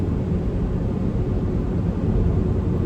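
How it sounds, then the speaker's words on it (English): Aircraft flying overhead give a broad, steady low roar that holds at an even level throughout, with no breaks or other sounds, heard outdoors near a house under renovation. "Planes fly and they come and go."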